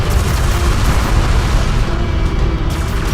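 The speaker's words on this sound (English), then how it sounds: "Enemy salvager destroyed." A heavy explosion rumbles as an enemy salvager vehicle is destroyed in the Deserts of Kharak strategy game, a loud sustained boom and roar filling the whole stretch.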